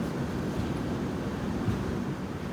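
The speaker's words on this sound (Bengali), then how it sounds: "ফাইনালি ছাড়লো ট্রেনটা" A holiday special passenger train from New Jalpaiguri to Howrah pulls away from a station, heard from inside a coach as a steady low rumble and rattle of the wheels that holds even throughout.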